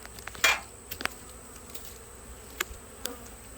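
Honeybees humming around an open, strong beehive during a beekeeping inspection, a soft steady drone with a few close individual buzzes and light clicks passing by.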